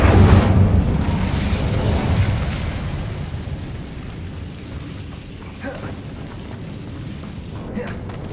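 Incendio fire spell cast in Hogwarts Legacy: a loud whooshing burst of flame at the start that fades into a long, rumbling roar of crackling fire and debris, with a few faint pops later on.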